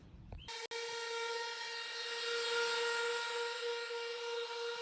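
A steady, close motor whine with a broad, even hiss runs continuously after a brief start, a power sander working on a rustic live edge wood picnic table.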